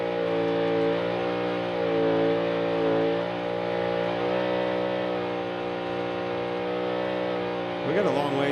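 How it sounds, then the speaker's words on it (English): A NASCAR race car at Las Vegas holds a steady, loud engine roar during a burnout, its droning revs swelling and easing slightly, with a crowd-like wash beneath and a brief sharper rise near the end. "Now that's a burnout."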